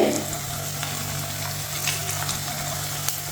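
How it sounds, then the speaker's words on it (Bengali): Shaped kebabs made from leftover rice fry in a pan, browning on one side with a continuous close sizzle and crackle over a low steady hum, and a few small pops are scattered through it. "এখন এক পাশটা একটু বাদামি করে ভেজে নেব"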